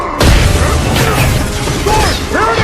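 A heavy blast in a sci-fi action movie battle scene erupts suddenly and loud, followed by a dense sustained rumble of debris and mechanical clatter, with faint shouted voices near the end.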